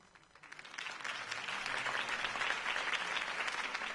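Applause from a crowd in the video game Batman: The Telltale Series swells quickly and holds steady as a dense, continuous patter of clapping, fairly loud.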